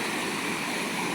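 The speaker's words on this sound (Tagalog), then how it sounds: "Ngayon rumagasa ang tubig dyan idol" Water rushes at Dumalon River in Tulungatong, Zamboanga City, making a steady broadband roar with no break and no voices.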